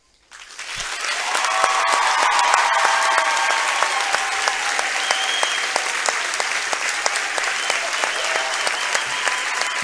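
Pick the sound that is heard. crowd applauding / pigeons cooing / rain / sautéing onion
crowd applauding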